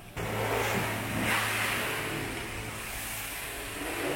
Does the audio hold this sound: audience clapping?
no